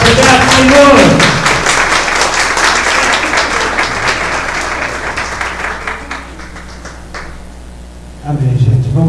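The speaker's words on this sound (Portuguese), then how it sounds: "Palmas para o Senhor Jesus." A church congregation claps loudly and steadily during a service, the applause filling the room for several seconds before thinning out, then a speaker's voice returns.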